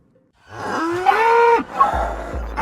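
A cow in a video game gives a long, loud, drawn-out moo with a rising pitch, heard alone and close, followed by a lower trailing grunt.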